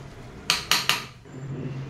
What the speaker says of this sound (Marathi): तर भाज्या व्यवस्थित मॅश करून झाल्यानंतर